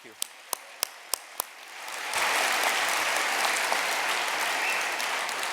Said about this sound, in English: Big round of applause for our three winners for tonight's awards.